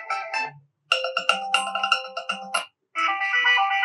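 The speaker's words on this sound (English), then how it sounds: "Now, first of all, just play any ringtone" A bright iPhone ringtone melody plays in short bursts of chimes, pausing briefly between phrases, close and clear with no talking.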